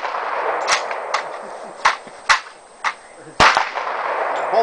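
Mosin bolt-action rifle shots at an outdoor range, several sharp loud cracks spaced irregularly over a few seconds, with soft background voices between them.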